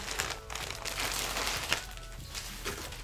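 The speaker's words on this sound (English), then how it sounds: "let's open this little plastic bag" Close crinkling and rustling of thin plastic being handled and pulled open, in short irregular bursts.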